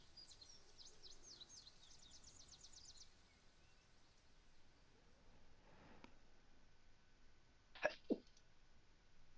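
A single sharp sneeze bursts out close and loud, followed by a quick second catch of breath, against quiet room noise and faint chirping earlier.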